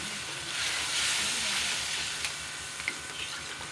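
Tomato paste sizzles in a hot frying pan as it goes in with the kaleji and peas, a steady close hiss of frying with a few faint stirring clinks and no talking.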